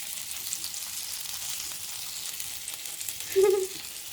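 Mangalore-style fish frying in a pan, a soft continuous sizzle and crackle of oil, with a brief louder spatter near the end.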